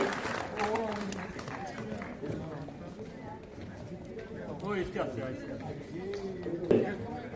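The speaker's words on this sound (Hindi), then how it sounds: "जोरदार तालियां इसके लिए" An audience at a student award ceremony claps in a dense, fairly quiet patter that runs throughout, with voices talking over it.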